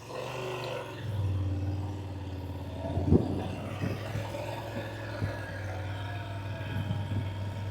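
A motorcycle in an emergency braking training drill accelerates toward 40 mph, a steady engine roar that swells and holds, with a few sharp clunks from shifting or braking, heard at moderate distance.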